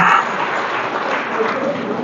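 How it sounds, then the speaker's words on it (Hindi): An audience at a women's employment and award event in Aurangabad gives brief, steady applause, a continuous wash of clapping. "बाकी लोग तालियां बजा सकते हैं"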